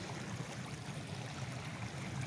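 Water rushes steadily through a newly built irrigation channel fed from the Tabing Ilog Dam beside the river, a loud, dense, continuous flow close at hand.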